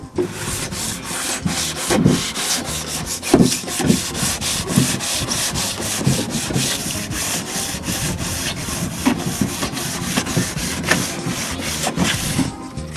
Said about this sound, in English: I just want to give it a nice sand, open up the grain of the wood so the stain will soak in nicely.